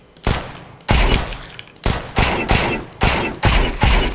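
Repeated P250 pistol shots in a tactical shooter game, about seven loud sharp reports fired at a steady, slightly uneven pace, each with a short decaying tail, no talk.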